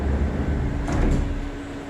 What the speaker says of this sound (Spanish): Cierro la puerta.